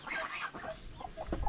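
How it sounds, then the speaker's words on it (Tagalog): Chickens cluck softly in a farmyard on a mountain, a few faint, scattered clucks over low background noise, with no talk. "Eto na ang mga sisi, mga manok."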